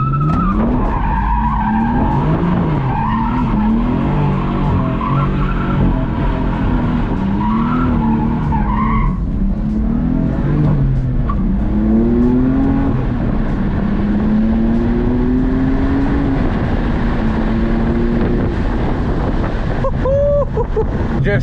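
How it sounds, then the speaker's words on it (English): A BMW F80 M3 does donuts as its tires skid and squeal in long wavering tones over the engine's rising and falling roar, loud and close the whole way through. "I gotta do some donuts for you guys"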